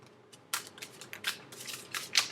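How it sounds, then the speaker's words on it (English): Several quick riffling, papery bursts of tarot cards being shuffled, close and crisp, in short irregular flurries. "And final shuffle."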